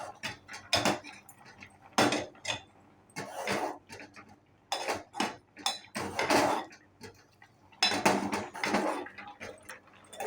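A new cooking pot is handled while making sweet chakkera pongali, giving off a series of sharp metallic clanks and knocks in irregular bursts, close by and fairly loud, with quiet gaps between them.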